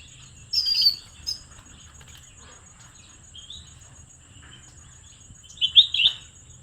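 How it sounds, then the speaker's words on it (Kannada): Sparrows and other small birds chirp in a guava tree, feeding below, with short bright bursts of tweets near the start and a louder cluster toward the end over a quiet, low background hum. "ಅಲ್ಲಿರೋ ಪಕ್ಷಿ ಎಲ್ಲ ಇವೆಲ್ಲ ಕೆಳಗಡೆ ಸೌಂಡ್ ಮಾಡ್ಕೊಂಡು ತಿನ್ನೋದು ನೋಡಿ"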